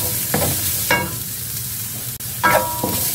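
Garlic sautéing in a pan for a beef-innard papaitan, giving a loud continuous sizzle with a few distinct stirring scrapes.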